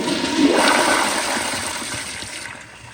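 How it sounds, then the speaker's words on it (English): Close-up flush of a 2019 Kohler Highcliff Ultra toilet: a loud rushing surge of water that peaks early, then steadily drains and fades toward quiet refill. "here's another flush from more of a close-up or front angle"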